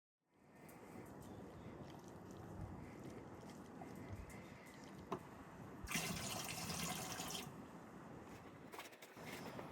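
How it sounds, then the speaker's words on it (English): Hot water pours into an open homebrew can of malt syrup in a shed, a steady broadband rush that runs alone for nearly ten seconds and swells louder and brighter in the final seconds. "put some more hot water in the can to get the last of it out"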